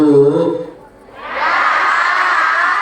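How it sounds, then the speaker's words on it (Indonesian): Audience at an Indonesian Islamic sermon and dhikr gathering breaks into loud cheering and crowd noise after a short voiced stretch, a broad sustained roar filling the rest of the moment. "kita berikan tepuk tangan untuk beliau yang sudah bercerita"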